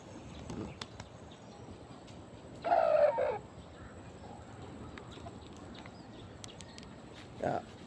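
A chicken set out in the sun gives a short burst of clucking partway through, faint against a steady outdoor background, with a second brief call near the end.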